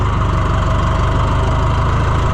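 A tractor engine idles on a windy farm with a steady low, rhythmic chugging that stays loud and constant throughout, with no talking.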